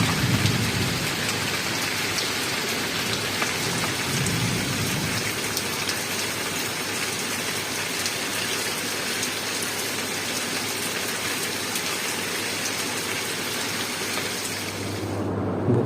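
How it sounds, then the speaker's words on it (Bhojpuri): A thunderstorm with strong wind: dense, steady rain pouring down close by, low rumbles of thunder underneath, no voices. "हवा भी तेज चलता, बारिश भी शुरू हो गई"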